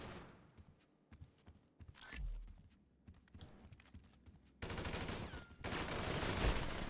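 Gunfire in the GTA V Online video game: scattered sharp shots and rapid bursts, then a loud sustained volley of automatic fire in the final seconds, with no talk over it.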